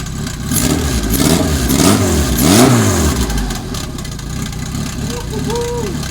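A turbocharged 1995 Honda Integra DC2 runs and revs up and down several times in rising and falling sweeps, loud and close, before settling toward a steadier idle.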